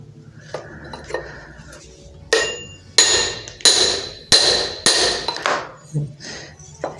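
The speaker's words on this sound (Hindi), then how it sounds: "तब तक इसको ऊपर से ठोकते रहिए धीरे धीरे ऐसे पाइप के सहारे" Sharp metallic hammer blows drive a new brass impeller into a water pump motor, tapped down through a pipe; about six loud ringing strikes in a steady run after a few lighter taps, close by.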